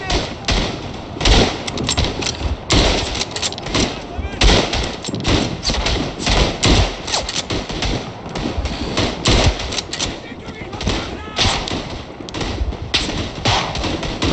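Dense machine-gun and rifle fire in the WWI shooter Tannenberg: rapid, overlapping bursts and single cracks crowd the whole stretch, loud and continuous, with a voice speaking now and then underneath.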